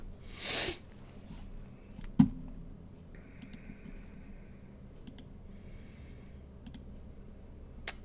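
Repeated sharp clicks, likely a pen being clicked, sounding as a few scattered, fairly close ticks over a quiet background rather than a steady run.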